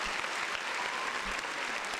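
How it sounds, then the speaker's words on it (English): Applause on a comedy podcast, a dense, even wash of many hands clapping, fairly faint and steady throughout. "I gotta give Kendrick Lamar a round of applause."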